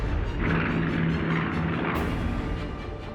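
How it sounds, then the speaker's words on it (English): Japanese fighter and torpedo planes fly over in a 1941 attack armada, heard as a steady, loud, broad engine roar with a low droning hum that holds throughout. "183 Japanese fighters and torpedo planes take flight"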